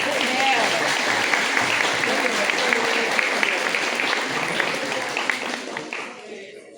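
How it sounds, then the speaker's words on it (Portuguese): Applause for a speaker at a Brazilian community event, dense sustained clapping from a crowd with voices mixed in, holding steady before tapering off at the end. "mais uma salva de palmas para ele"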